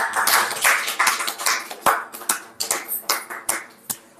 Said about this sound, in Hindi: स्वागत किया जाए ग्रैंड तालियों के साथ